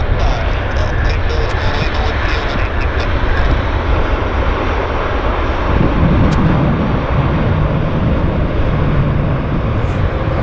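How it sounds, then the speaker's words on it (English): A Cathay Pacific airliner landing at Vancouver airport, a loud steady roar of engine and rushing noise that fills the whole stretch, close and unbroken. "It was quite a nice landing on the Cathay Pacific."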